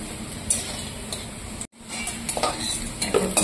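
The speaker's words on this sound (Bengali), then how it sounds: "তো আলুটা মোটামুটি ভাজা হয়ে গেছে, এবার আমি নামিয়ে নেবো আলুটাকে।" Fried potato pieces lifted out of a pan of hot oil, close scraping and clinking of a spatula against the pan over a low sizzle, with a brief gap midway.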